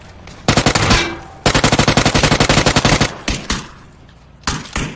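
Rapid automatic gunfire in the PUBG video game, two loud close bursts of closely spaced shots, followed by a few sharper single cracks and short volleys with gaps between them.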